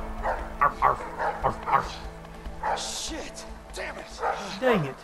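Dogs bark in A Way Out, several sharp yipping barks in quick bursts, loud and close, mixed with frantic shouting from a person talking over them.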